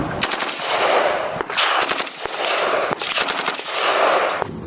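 A toy AK-47 assault rifle blasts out electronic rapid-fire bursts, several loud repeated rattling volleys with brief pauses between them, close and clear with no talking.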